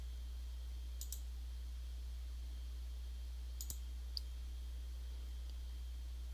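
Computer mouse clicking at a desk. A few faint, sharp double clicks sit well apart over a steady low hum, with no talking.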